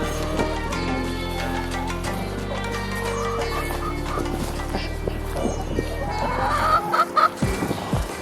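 Chickens cluck softly in a high-desert garden in Southern California after snow, with scattered calls over a low steady background hum.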